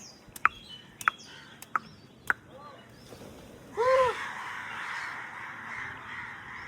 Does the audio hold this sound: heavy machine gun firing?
no